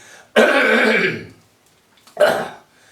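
Two rough, harsh throat sounds close by, a long gravelly cough followed after a pause by a shorter one.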